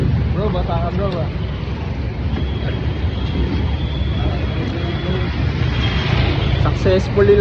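An airplane's engines drone steadily after landing, filling the whole cabin with a low rumble. Voices talk over the engine noise now and then, and a few faint electronic tones can also be heard.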